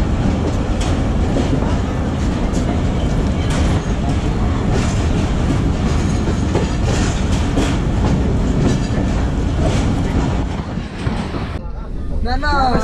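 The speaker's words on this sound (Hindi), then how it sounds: "अभी अटक से ये गाड़ी चल पड़ी है जी।" The Thall Express passenger train pulls out of Attock railway station at night, a loud continuous rumble with rattling carriages and wheel clatter heard from on board, easing slightly near the end.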